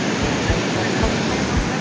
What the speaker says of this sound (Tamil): பார்த்தீங்களா வருது தண்ணி அதில் வந்து விழுகுது